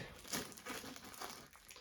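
Brief crinkling and crumpling of a plastic bag up close, a few short rustling bursts in a quiet workshop while working on a 1992 Honda CR250.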